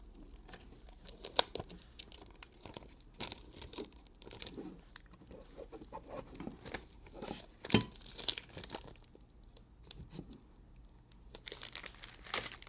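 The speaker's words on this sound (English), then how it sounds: "make sure you're really smoothing down the metallic before you lift up your tape" Transfer tape peeling up off a metallic vinyl decal for a confetti tumbler design, giving soft crinkling and tearing rustles with scattered sharper crackles, close and fairly quiet.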